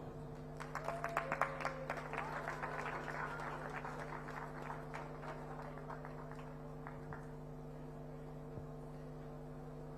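Scattered audience applause breaks out at an inauguration ceremony for the IIT Madras campus in Zanzibar. The clapping is thin and fairly distant, swelling briefly in the first few seconds and then fading, over a steady electrical hum in the hall.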